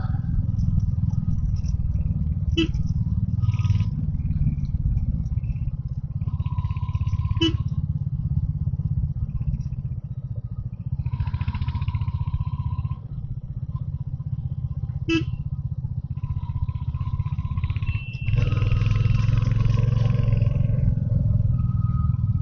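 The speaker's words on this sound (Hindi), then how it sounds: "बादलों के बीच में और पहाड़ों के बीच में हमारी इंजन्स थड़थड़ाते हुए" Motorcycle engines rumble steadily on a mountain road in Uttarakhand near Chakrata, a continuous low drone with brief horn-like tones and a louder surge near the end.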